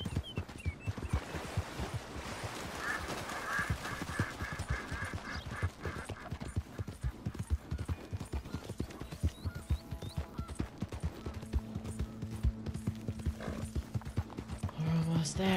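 A horse's hooves clop in a steady walking rhythm in Red Dead Redemption 2, continuous and fairly close, with occasional neighs and a voice talking over them.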